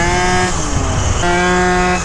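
A Phantom F12 scooter fitted with a Stage6 overrange kit and straight-cut gears whines steadily at close range, with a brief dip in the middle before the tone settles back in.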